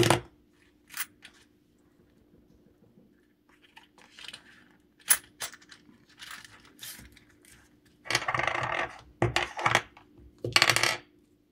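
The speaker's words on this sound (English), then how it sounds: "I'm gonna put a pound in." A pound coin drops into a paper envelope with a sharp metallic clink, followed by rustling and crinkling of the paper as it is handled; brief, close, with no talking.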